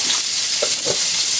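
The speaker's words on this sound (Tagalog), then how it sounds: "haluin natin." Shrimp, crab and squash in coconut milk are stirred in a cooking pot, giving a short burst of close scraping and soft sloshing over a steady simmering hiss, with no talking.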